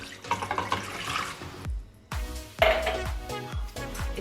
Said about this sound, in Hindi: एक गिलास पानी डालेंगे।